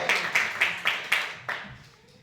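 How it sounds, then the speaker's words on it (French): Several rhythmic claps from a congregation in a Haitian church, about six evenly spaced, soft and slightly distant, fading out toward the end. "On applaudit Dieu par moi."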